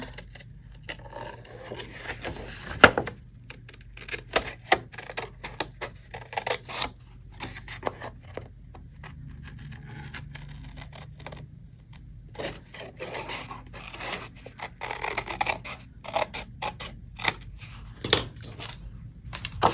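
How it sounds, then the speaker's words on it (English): Scissors cut around the tab of a manila paper folder in close, quiet snips mixed with soft paper rustling and handling, with no speech. "just take your scissors, and you are just going to cut around this tab."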